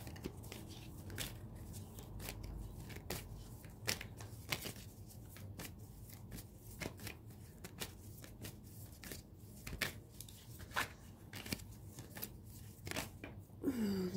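Tarot cards shuffled and drawn by hand, a quiet run of soft crisp flicks and slaps repeating at an uneven rhythm, close and faint with no talk.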